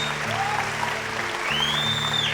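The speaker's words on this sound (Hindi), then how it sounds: "महफिल में भाई थोड़ी बहुत ताली भी बजती रहनी चाहिए आप सभी की तरफ से।" Audience applause at the Green Cinema Awards 2025, a Bhojpuri film awards show, with steady clapping from a crowd throughout, partly layered under background music and tones.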